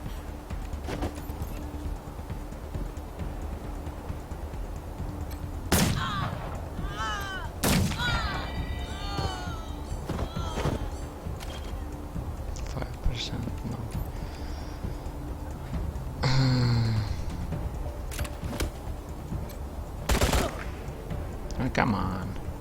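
Shotgun blasts ring out during turn-based combat in the video game Wasteland 3, several sharp loud bangs spaced irregularly over a low steady background, with players talking in between.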